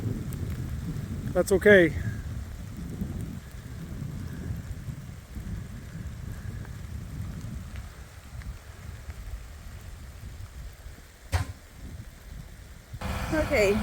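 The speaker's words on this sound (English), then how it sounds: "Well, the rain has come. And a lot of wind." Rain and strong wind on a farm during a storm, a steady, close wash of noise that continues throughout, with a person briefly speaking near the start.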